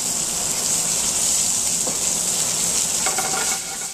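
A pan of Brussels sprouts sizzles with Italian pancetta, garlic and white and red pearl onions, giving a steady, close hiss of frying throughout, with a brief clink near the end.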